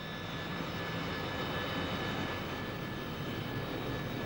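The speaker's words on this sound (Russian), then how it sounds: "Реактивные аэропланы пересекают ту же дорогу, что и пешеходы." A jet airplane taxis on the airstrip on Nauru, producing a steady, even engine roar that holds unbroken for several seconds at moderate distance, with no talking.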